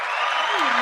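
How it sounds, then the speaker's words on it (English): An audience in a live show setting applauds steadily, a dense wash of clapping throughout with a voice briefly audible over it. "Let's start the Sunday off with a clap."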